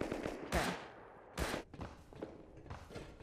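Gunfire from scientist NPCs in the survival game Rust, underground: a few sharp, close shots at irregular intervals over a low, noisy game background, with no talking.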